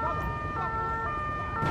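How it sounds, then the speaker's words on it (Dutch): Wailing ambulance siren in the video game GTA 5, a steady continuous electronic wail over low engine rumble, fairly close and sustained throughout. "De ambulance rijdt er gewoon door."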